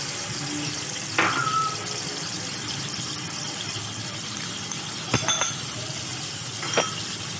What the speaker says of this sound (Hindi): अब इसमें मैं डालूँगी ये जो मैंने प्याज पीसी थी वो रेड ऑनियन पेस्ट